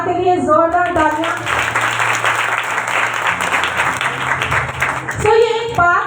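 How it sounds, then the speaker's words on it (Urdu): A congregation at a Christian talk about Christmas and the Holy Trinity bursts into loud, sustained applause for several seconds, with a voice speaking before the clapping and again as it fades. "میں چاہتی ہوں خدا کے لیے زوردار تالیاں۔"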